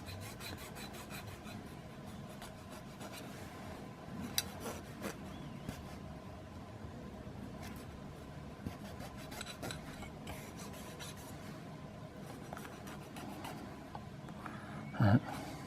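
A small jeweler's file rasps back and forth across a guitar-playing fingernail in faint, steady scraping strokes, close and quiet throughout, with a brief louder knock near the end.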